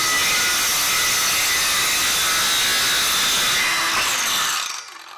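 Cordless circular saw ripping through MDF, a loud steady high whine with a rough grinding edge that runs without a break for about four and a half seconds, then cuts out abruptly as the blade winds down.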